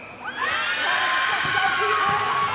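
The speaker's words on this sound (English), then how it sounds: "Oh, big cheer for Canada then." A netball arena crowd cheering for Canada, a sustained loud roar of voices and whoops swelling quickly and holding steady.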